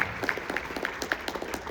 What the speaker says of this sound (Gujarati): તાળીઓથી વધાવી લઈએ